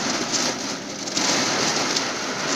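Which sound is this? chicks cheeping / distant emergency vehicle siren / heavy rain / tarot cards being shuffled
heavy rain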